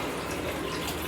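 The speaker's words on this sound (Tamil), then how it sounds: "லைட்டாக தண்ணி ஊற்றி" Water poured into a pan of chicken gravy on the stove, a brief, continuous splashing gush close by.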